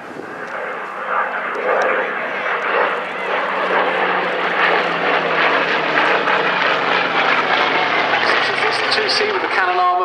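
A Hawker Hurricane and a Spitfire fly past at the Dunsfold Wings & Wheels airshow, their piston engines droning loudly and steadily as the propeller aircraft pass, with a commentator talking over the public address.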